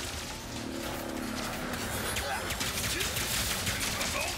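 Rapid gunfire bursts from the video game Ratchet & Clank Rift Apart crackle over dense game sound effects, continuous and loud across the scene.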